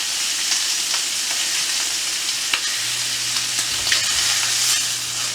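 Filet mignon sears in a hot pan with a steady, close, continuous sizzle and crackle, a faint low hum joining partway through; no one speaks.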